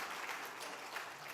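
A church congregation at a Korean Sunday worship service claps together, a soft, even patter of many hands heard from a distance for a moment.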